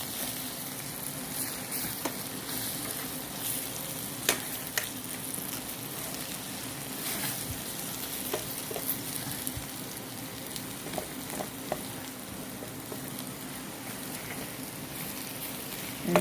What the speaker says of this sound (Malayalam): നമുക്ക് ഈ പൊടികളൊക്കെ നന്നായിട്ടൊന്ന് മിക്സ് ചെയ്യാം